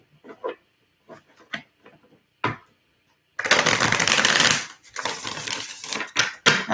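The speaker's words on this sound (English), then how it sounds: "let me shuffle this deck" A deck of tarot cards is handled with a few soft clicks and taps, then shuffled in a loud, close riffling burst lasting about a second, followed by further bursts of shuffling.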